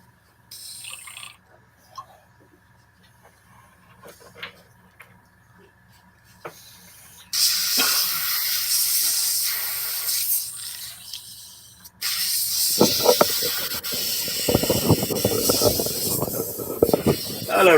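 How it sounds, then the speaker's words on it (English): An airbrush, newly cleared of a blockage, hisses in bursts: quiet taps and faint noise at first, then a loud sustained spray starting abruptly, a brief break, and an even stronger steady jet with rattling mixed in. "that's now coming out a lot more fast. I must have had a blockage in the airbrush"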